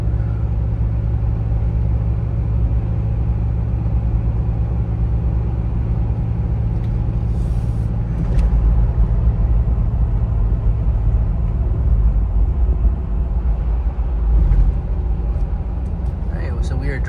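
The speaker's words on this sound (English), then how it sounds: "So we are driving over the mountain now." Toyota Land Cruiser 80 series driving over a mountain road in Western Maryland, a steady low engine and road rumble filling the cabin throughout, with a voice talking over it.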